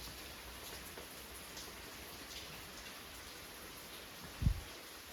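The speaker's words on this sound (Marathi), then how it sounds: "आज पाऊस पडताय बाहेर." Steady rain hisses evenly outside, a soft constant patter with one brief low thump near the end.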